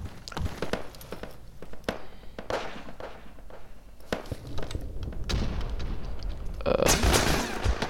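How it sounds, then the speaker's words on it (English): Gunfire in the World War II shooter game Resistance & Liberation: scattered sharp shots and bursts, some near and some distant, over battlefield ambience, growing denser toward the end. "I'm being shot at."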